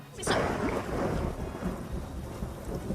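A lightning strike in the video game Chrono Trigger lands as a sharp loud crack followed by a sustained rumbling roar of thunder with a rain-like hiss.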